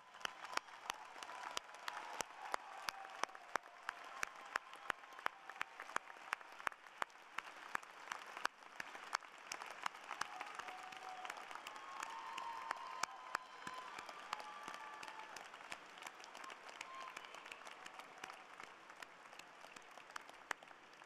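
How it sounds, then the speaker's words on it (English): Audience at the UCLA Henry Samueli School of Engineering and Applied Science commencement applauding, sustained dense clapping from a large crowd for about twenty seconds, fairly distant and with no speech over it. "offer your family and friends a big round of applause"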